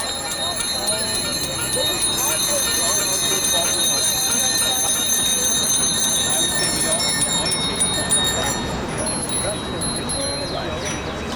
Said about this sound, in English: Let me hear those bells!